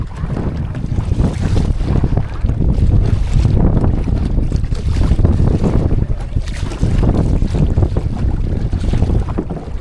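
A small pleasure boat moves across a lake in the Ananthagiri Hills on a windy day, strong wind buffeting the microphone and water washing around the hull in a loud, continuous roar.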